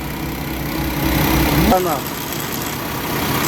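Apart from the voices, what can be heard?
Paccar MX13 truck engine idling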